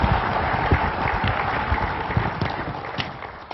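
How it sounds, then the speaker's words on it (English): Scattered audience clapping at a lecture, with individual claps distinct over a muffled, lower-quality background. "let's give him a round of applause for the work that he's done in this case."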